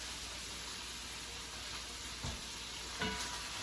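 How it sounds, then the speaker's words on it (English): Continuous hissing sizzle of food frying in a pan, with a couple of soft knocks from stirring and no talking. "My food is sizzling."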